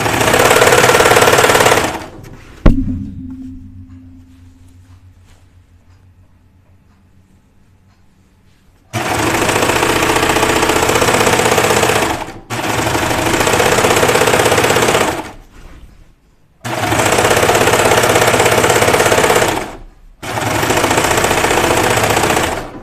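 A serger runs in several loud, buzzing bursts with a rattling, vibrating edge from the table beneath it, separated by short pauses and one quiet stretch after a thump.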